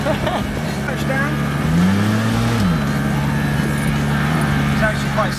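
A tuk-tuk engine, throttle stuck wide open, buzzes loudly and continuously on a Sri Lankan road, its pitch briefly sweeping up and back down, with voices talking over it and traffic nearby.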